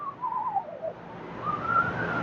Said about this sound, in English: We can hear a nice little whistle.